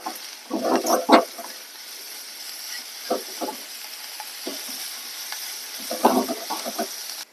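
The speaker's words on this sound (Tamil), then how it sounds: "இப்ப இதை ஒரு 2 நிமிஷம் வதக்கிக்கலாம்." Onions with coriander and curry leaves sautéing for adai dosa, a steady soft sizzle under bursts of spatula scraping and stirring near the start and again toward the end, with no talk.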